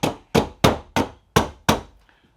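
A hammer tapping a rifle handguard part during installation on a Henry rifle, six sharp, loud strikes in a steady rhythm, each decaying quickly, close to the microphone.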